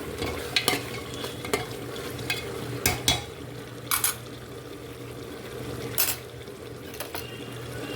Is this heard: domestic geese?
no